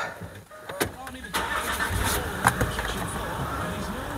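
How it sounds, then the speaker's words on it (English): A Range Rover Sport engine cranks with a few sharp clicks and catches, settling into a steady idle close by while a person talks over it. "I'm just going to start the engine up."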